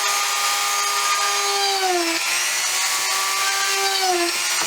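A power drill bores holes into the wood of a table puppet, two long whining passes that each sag in pitch as the bit bites, close and clear with no talking.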